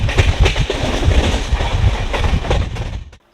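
Kolkata–Ayodhya express train (13151) running on rails: loud, continuous rumble of wagons with rhythmic clickety-clack of wheels over rail joints, close by, ending abruptly near the end.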